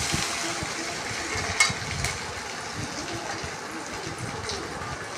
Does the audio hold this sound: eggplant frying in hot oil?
yes